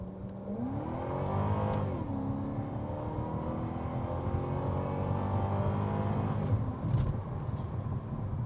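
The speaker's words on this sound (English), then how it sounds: "Breaking the tires loose a little bit there when we got on it, up to about 80 miles an hour" A Cadillac XLR-V accelerates hard toward about 80 mph, its engine note rising and falling through the gears with a sustained loud roar from inside the car. A brief tire chirp comes near the end.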